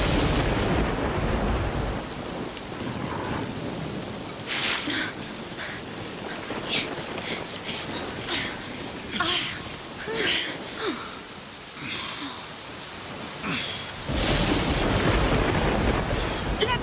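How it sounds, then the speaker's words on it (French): Heavy rain from a thunderstorm pours steadily and up close, with broadband hiss and rumbling swells of thunder rising and fading through the wet night. "En tout cas, l'orage approche."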